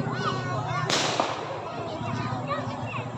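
Firecracker bursting low near the ground at a Hari Raya fireworks display in Banting, Malaysia: a sharp, loud crack followed by crackling, set against constant crowd noise and voices.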